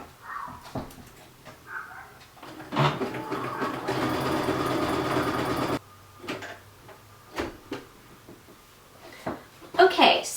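A sewing machine zigzag-stitches a fleece poncho cowl with a narrow, medium-length stitch, whirring steadily for a few seconds between scattered clicks and fabric-handling knocks.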